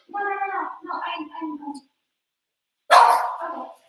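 Barking dogs outdoors, a run of harmonic, howl-like barks for nearly two seconds, a silent gap, then one sharp, loud bark close by.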